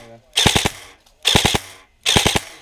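Airsoft guns fire during a game at Flagswipe, heard as three short bursts of three rapid cracks each, evenly spaced and fairly prominent, with no speech over them.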